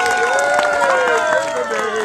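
Audience applauding and cheering for the Lord Mayor at an outdoor Renaissance-style revel, steady dense clapping from a crowd close by, with sustained musical tones and voices mixed in throughout.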